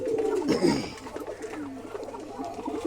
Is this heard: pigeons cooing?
yes